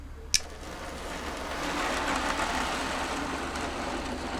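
An HO-scale model train on the Dynamite Canyon Tramway layout, running on an analog DC throttle, makes a steady low rumble and whir along the track, holding a constant close hum after a single sharp click near the start.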